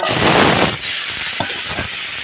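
Quail eggs drop into hot oil and set off a loud burst of hissing sizzle that quickly settles into a quieter, steady frying crackle. No one speaks.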